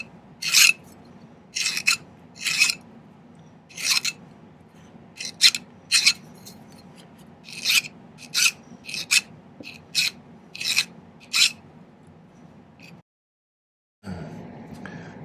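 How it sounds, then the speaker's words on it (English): A hand metal file rasps against silver bell pieces in short, regular strokes, about a dozen bursts separated by brief pauses, close up with a faint room hum beneath and a sudden gap near the end. "I'm going to spend a little time with my file smoothing these two together"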